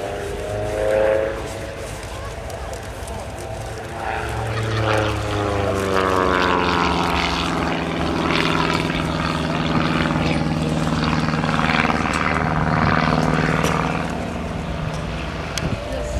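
A biplane doing aerobatics at the Leuchars airshow, its propeller engine droning and sweeping up and down in pitch as it loops overhead, steady and fairly loud, with a commentator talking over a PA throughout.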